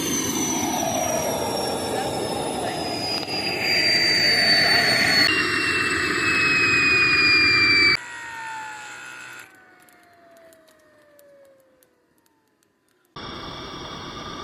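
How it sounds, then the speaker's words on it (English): A homemade turbojet built from junkyard parts and fed with propane roars and whines as it spools, with a loud rising-and-falling turbine whistle. The sound cuts out abruptly, leaving a fading tone before a short burst returns at the end. "the engine started up almost immediately, slowly spooling up as I increased the fuel flow"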